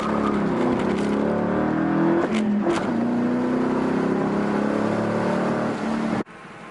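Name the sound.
naturally aspirated car engine revving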